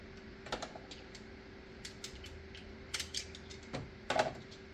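Socket ratchet working on the belt tensioner of a Mercedes-Benz GLK350 with the M272 engine, giving sparse, quiet metallic clicks and taps in short irregular bursts close by, with a steady low hum underneath.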